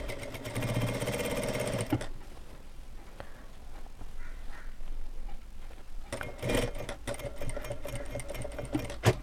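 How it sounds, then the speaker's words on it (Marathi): Sewing machine stitching a four-tuck blouse, a fast mechanical whirring run for two seconds, a quieter pause with faint handling, then stitching resumes, close and steady. "आणि या पद्धतीने इथे आपल्याला प्रेस टिप देऊन घ्यायची आहे."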